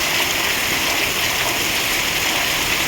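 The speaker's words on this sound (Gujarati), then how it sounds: "મોટા કુટવડામાં જોરદાર વરસાદ ચાલુ છે મિત્રો" Heavy rain pours down in a village in Gujarat, India, with water running along the ground, a dense, steady hiss and rush that stays loud and even throughout, with no voices.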